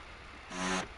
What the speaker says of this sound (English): Yeah, it is a Renault engine.